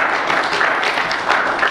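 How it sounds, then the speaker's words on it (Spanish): Worshippers in a church keep up steady, even applause, many hands clapping together at a constant level with no speech over it. "Dale un aplauso a Cristo Jesús en este día."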